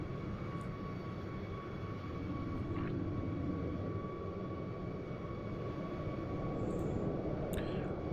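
An EasyJet airliner on approach to land in the Microsoft Flight Simulator 2020 video game, a steady low engine roar that holds and swells slightly over several seconds, with no talking.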